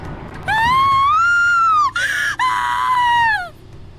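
A single loud, sustained scream from the Corpse Party: Book of Shadows horror video game, rising and wavering over about three seconds with a brief catch and break midway before trailing off.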